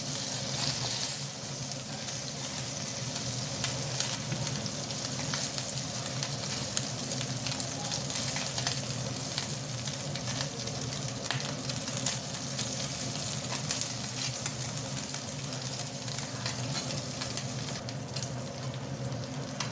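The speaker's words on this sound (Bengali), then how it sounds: "পুঁটি মাছ কেটে ধুয়ে হলুদ লবণ মাখাইয়ে একটু মশমশা করে ভাজি করে নেব" Small puti fish rubbed with turmeric and salt fry crisply in hot oil, giving a steady, dense sizzle and crackle that holds close and unbroken throughout, with no talking.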